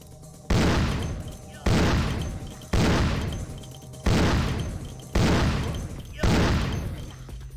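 Six evenly spaced, loud gunshots from a firearm in Vampire: The Masquerade, each a sharp close crack with a decaying tail, fired one after another at a steady pace.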